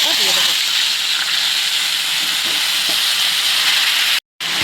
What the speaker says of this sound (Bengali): তেলটা আমার একদম গরম হয়ে গেছে, কালো জিরাটাও একদম ভাজা ভাজা হয়ে গেছে। আমি এবার এই কচু শাকটা দিয়ে দেবো।